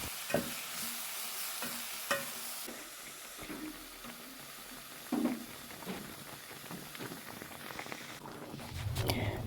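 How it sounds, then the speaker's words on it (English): Collard greens (sukuma wiki) sizzle and hiss in a hot pan while being stirred, with occasional scrapes and clinks of a utensil. "as I continue frying my sukuma wiki"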